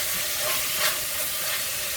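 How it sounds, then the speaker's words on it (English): Chicken wings frying in a pan on high heat, a steady close hiss and crackle that holds evenly for two seconds with no voices. "Now that this is frying"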